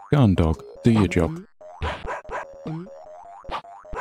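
A digitized dog barks in the retro computer strategy game North & South, several sharp synthetic yaps in quick bursts followed by shorter bouncy game sound effects.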